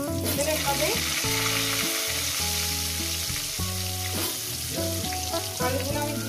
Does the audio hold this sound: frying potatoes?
yes